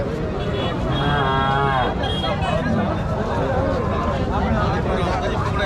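Cows at a cattle market in Mattrapalli low and stir amid a busy crowd, with a few moos standing out over steady babble and people talking close by.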